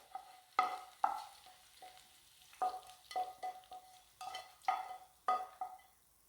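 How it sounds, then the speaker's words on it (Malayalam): Tempering of curry leaves poured into a Kerala-style chickpea curry, with a series of short sizzling bursts and clinks of a pan or ladle, loud and close, with quiet gaps between them. "കറിയിലേക്ക് താളിച്ചൊഴിക്കാം."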